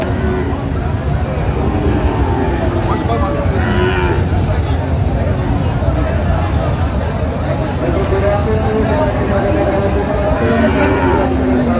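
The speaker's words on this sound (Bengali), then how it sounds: "ষাঁড়" An 11-month-old Sahiwal bull moos at a crowded cattle market in Raniganj, Dinajpur. Its low calls rise over a dense, steady crowd din, with people talking throughout.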